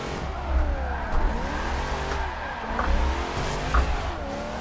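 Car engine and screeching tire squeal while drifting in the racing game Forza 7, heard from first person: a continuous revving drone with wavering pitch and repeated sharp squeals, loud and steady, no talk.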